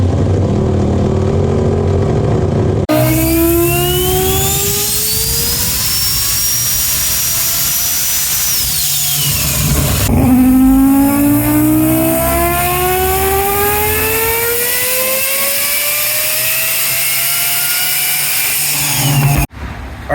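Turbocharged five-rotor car engine screaming through back-to-back power runs on a dyno, rising pitch sweeps climbing and cutting off twice, very loud and close with a whining turbo.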